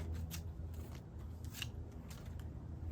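Quiet, repeated snipping of scissors trimming dry palm fronds, a steady series of short crisp cuts close by.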